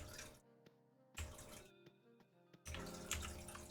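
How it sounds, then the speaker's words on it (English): Water trickles and splashes in a home aquarium with a low water level, a soft, intermittent running sound alongside faint steady tones and quiet background hum. "You can hear my aquarium."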